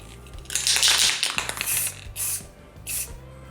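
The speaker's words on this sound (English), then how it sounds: "So I'm just going to spray it," Spray can hissing black paint onto a logo coin, in several short close bursts: one long spray, then three brief separate hisses, with no talking.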